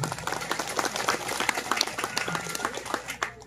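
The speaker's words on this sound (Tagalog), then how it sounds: "Palakpak po." Audience applause at a realty and construction company's year-end party, a dense, steady clatter of many hands clapping throughout, fairly close and loud, fading slightly at the very end.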